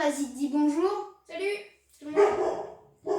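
A dog barks and yips at home during a Minecraft creative-mode session, loud and close, mixed with someone talking over it.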